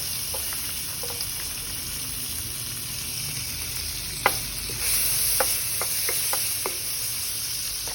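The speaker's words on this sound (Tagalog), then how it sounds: "add the butter. Saute the garlic." Garlic sautéing in butter for Cajun crab sticks, a gentle steady sizzle with scattered light clicks and a few spatula taps, the hiss swelling slightly midway, no talk.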